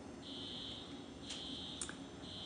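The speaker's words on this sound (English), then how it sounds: "No, it's an alarm. It's an alarm." A fire alarm sounds at a distance with a faint, steady high-pitched electronic tone that pauses briefly and resumes, under a constant background hiss.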